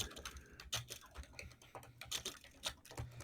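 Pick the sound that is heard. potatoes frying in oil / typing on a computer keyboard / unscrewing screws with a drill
typing on a computer keyboard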